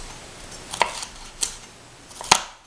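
A knife cutting a bell pepper laid skin side down on a board, three distinct crisp chops spaced apart, close and clear with no talk.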